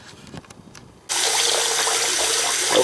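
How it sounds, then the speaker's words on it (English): Hot water from a faucet gushes steadily into a sink, a loud continuous rushing that starts abruptly after a second of quiet background. "right now I'm in the process of adding some hot water to the sink"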